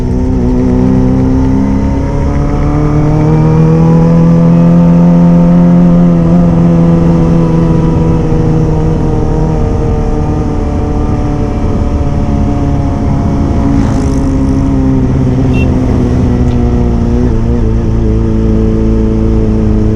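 Kawasaki ZX25R motorcycle ridden along a straight road, its engine a loud, steady, close drone that climbs and holds in pitch, with wind noise mixed in and no talking.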